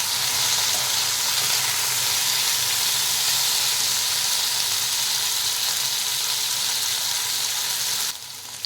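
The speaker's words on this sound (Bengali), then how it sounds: "ঝোলের জন্য ভিন্ডিটা একটু ভালো করে তেল বেশি করে দিয়ে ভাজতে হয়" Okra frying for a fish curry in a generous amount of hot oil, a steady, loud, dense sizzle that continues unbroken and drops off abruptly near the end.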